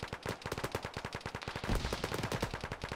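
Rapid automatic gunfire in a military shooter game, a steady string of quick bursts with no talk over it, sitting moderately far off and fairly faint.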